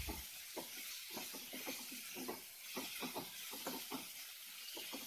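Thinly sliced onions sautéing with ginger and garlic in a pan for prawn masala rice, a steady close sizzle with soft crackles and the occasional stir, no talking.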